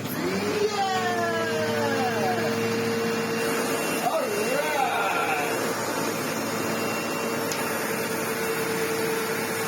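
A Sebo X4 upright vacuum cleaner with a slightly melted part runs with a steady, loud whining motor drone throughout, with brief pitch sweeps and scraping sounds on top.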